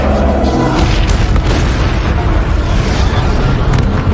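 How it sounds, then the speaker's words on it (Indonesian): A car blowing up in the 2021 action film Infinite: a loud, sustained booming roar with heavy low-end rumble and crackling debris, continuous for several seconds with no speech. "membuat mobil mereka meledak"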